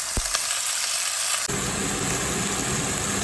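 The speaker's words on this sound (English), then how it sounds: "you want that to sizzle. You want to hear the sizzle on it." Beef strips sizzle and spit in a hot pan, the frying hiss swelling louder partway through and continuing steadily, close up with no talking.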